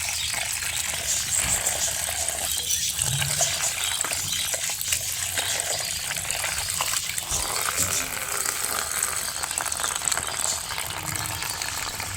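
Water rushes steadily into a container as it is refilled for a birds' breeding box, making a continuous gushing, rattling pour that stays loud and even throughout, with no clear talk over it.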